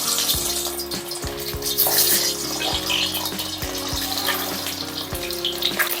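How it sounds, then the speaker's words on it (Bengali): Eggs frying in a pan for a home-style Bengali egg korma, a steady bright sizzle with crackling spatter, close and continuous, with faint tonal background music underneath. "এখন আমি ডিমগুলো সব ভেজে নেব।"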